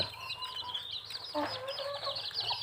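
Young chicks under three months old cluck and cheep close by in a quick run of short, high calls, with a faint low hum behind them.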